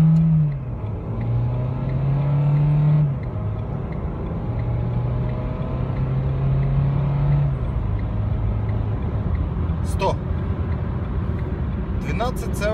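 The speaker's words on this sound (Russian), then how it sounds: "Итак, Renault Captur, разгон от 0 до сотни, старт." A Renault Captur diesel accelerates hard from a standstill toward 100 km/h, heard from inside the cabin, the engine note climbing and dropping through several gear changes, with someone talking over it.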